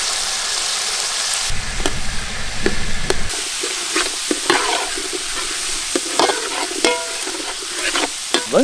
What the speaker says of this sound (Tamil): கூட அப்படியே வெங்காயத்தை சேர்த்து வதக்கி எடுத்துக்கணுமுக்கா